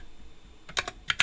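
Keys on a mechanical keyboard fitted with vintage Cherry Black switches are pressed in a few quick, close clacks, with two clustered pairs of keystrokes over a faint background hum.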